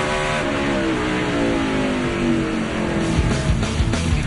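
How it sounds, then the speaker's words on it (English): NASCAR Busch Series race cars doing group donuts after the 2007 race at Montreal, several engines roaring and revving together with rising and falling pitch, loud and sustained with bursts of tire noise. "we're having group donuts out here"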